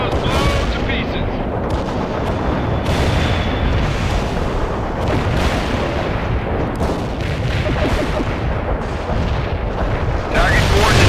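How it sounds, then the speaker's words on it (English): Mortar strike explosions in World in Conflict, a continuous roar of blasts and rumbling booms mixed with gunfire, loud and dense throughout with voices over it. "Mortar strike inbound. Vehicles blown to pieces."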